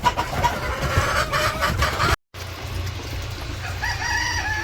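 A flock of village chickens clucks busily up close, with a rooster's crow among the calls; after a short silent break the clucking and hen calls carry on at a steady, lively level.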